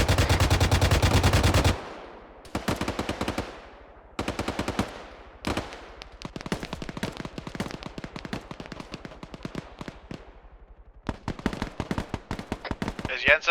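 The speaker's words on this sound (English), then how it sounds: "Getting strafed by an MI8 with Hydras. Rounds landing now." Mi-8 helicopter strafing with Hydra rockets in Arma 3: a dense roar of fire at the start, then rapid gunfire bursts and sharp impacts in irregular volleys, with voice chat over the shooting.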